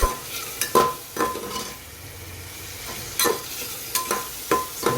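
Red chili powder, asafoetida and salt are stirred in a frying pan, giving repeated sharp scrapes and clinks of the spoon against the pan over a soft sizzle, in irregular strokes with short pauses.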